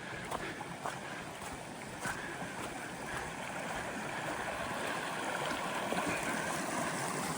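Creek water flowing steadily at the outlet of Lake Cobbler in an alpine park, a soft continuous rushing close by with no voices.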